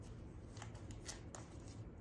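A Memento Mori oracle card deck is riffled and shuffled in quick, soft flicking bursts, close but faint, a smooth papery patter with a few sharper snaps.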